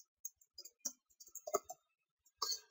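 Sharp, quiet computer mouse clicks at close range, a handful of scattered taps with one firmer click near the middle and a short cluster at the end, no voice.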